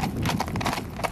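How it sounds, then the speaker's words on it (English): Horse loping in an arena, rapid soft hoofbeats in a quick rolling rhythm, close and clear. "He's got a really nice little short lope."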